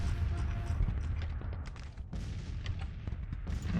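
Whitworth cannons and other artillery firing in a Civil War battle in the strategy game Grand Tactician, a dense rumble of overlapping booms and crackling gunfire that keeps going without a break.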